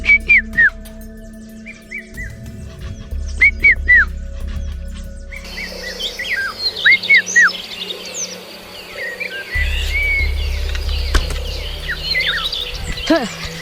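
A Hadza boy whistles in sharp, rising chirps imitating a bird to lure it while hunting, repeated in short bursts over insect drone and real bird calls in the bush.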